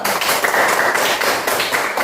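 Classroom of students clapping together during a maths lesson, with dense, fast, continuous applause for about two seconds and no talking.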